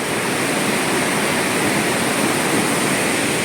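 A swollen river roars in a steady, dense rush of water, loud and unbroken throughout with no voices.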